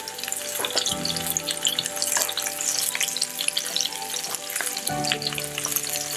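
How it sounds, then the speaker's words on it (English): Roughly crushed ginger, garlic and hot pepper sizzle in hot oil for a Chinese stir-fry, a loud, steady crackle with bursts of stirring and fresh spits as ingredients hit the pan. "Now that the oil is hot, I'm going to add the ginger, garlic, and hot pepper, roughly crushed."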